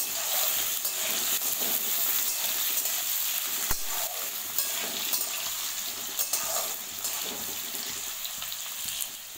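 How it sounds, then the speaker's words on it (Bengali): Potatoes fry in oil with green chillies and panch phoron while being stirred; a continuous close sizzle carries scraping and clattering from the spatula, with a sharp knock near the middle and no voices. "দেখুন সব আলু দিয়ে নাড়াচাড়া করে নেবো।"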